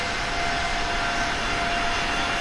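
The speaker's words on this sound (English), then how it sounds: "This aeroplane is just screaming along." Steady roar of iniBuilds A320neo jet engines cruising in Microsoft Flight Simulator 2020, a continuous loud broadband rush with a faint whine, alone without talk.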